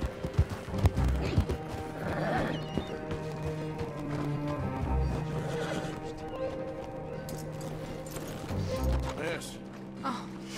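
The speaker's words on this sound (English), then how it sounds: "I'm gonna keep my horse straight, man." Horse galloping and neighing in the Red Dead Redemption 2 video game, with heavy hoof thuds in a rolling rhythm, whinnies rising above, and game music and a voice underneath.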